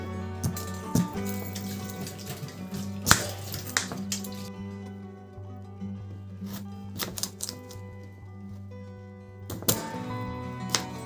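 Beetroot being chopped into chunks on a kitchen board, a series of sharp knife thunks in an irregular rhythm, close and fairly loud, with short pauses between cuts and no talking.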